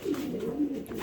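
A racing pigeon in a loft gives a soft, low, rolling coo, close and clear, lasting about a second with no talk.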